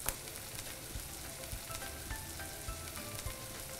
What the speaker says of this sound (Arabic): لما يحمى الزيت بنحط عليه البصل وبنقلبه دقيقتين 3 لغاية ما يبدأ يشقر.